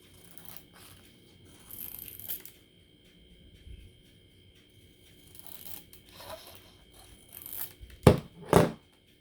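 Sublimation print paper is wrapped around a shot glass in a few separate bursts of crinkling, rustling and tearing-like paper noise, with quiet gaps between them and two sharper, louder crackles near the end.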